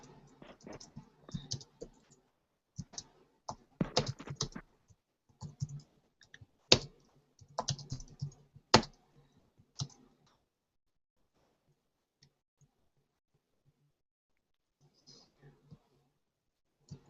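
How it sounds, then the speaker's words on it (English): Clusters of fast keyboard clicks come up close on a computer keyboard during an online call, with a brief voice in between, then trailing off into near silence. "So I'm gonna type it in now."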